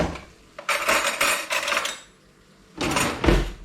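A metal spoon clinks and scrapes against a dish of chicken stir fry in a few short bursts, with quiet gaps between them and a final louder clatter.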